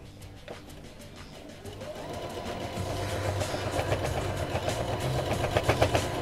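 A sewing machine stitches a seam, its motor building up from quiet into a steady, close, rhythmic whirring with faint pulsing, no speech over it.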